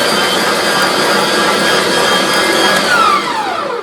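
A Vevor electric 4.2-pound meat grinder runs steadily, a loud, close, continuous motor whine and hum held at an even level throughout with a slight pitch drop near the end, no speech.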